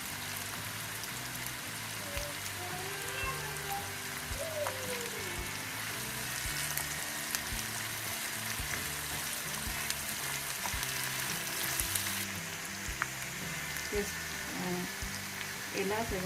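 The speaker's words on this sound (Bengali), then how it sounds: "পেঁয়াজগুলোকে এবার একটু ব্রাউন করে ভেজে নেব।" Onions and green chillies fry in hot oil for a prawn biryani, giving a continuous, fairly quiet sizzle and crackle that runs throughout, with a person speaking over it now and then.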